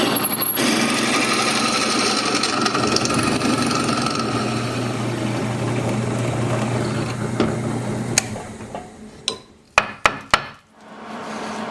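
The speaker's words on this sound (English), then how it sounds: "we're going to drill a hole through here" Steady grinding drill bores through a steel plate for a nut to be welded on, a continuous loud whir for about eight seconds before cutting off into a few sharp metallic knocks and clicks.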